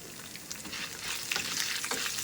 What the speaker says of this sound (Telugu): పచ్చిమిర్చి వేగుతూ ఉంటాయి కదా